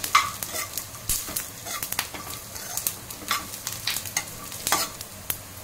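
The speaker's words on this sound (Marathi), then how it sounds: "जिरे टाकूया। चांगलं तेलात भाजून घ्यायचं आहे।" Cumin seeds roasting in hot oil, with a crackling sizzle and frequent quick spatula scrapes and taps against the pan, close and fairly busy throughout.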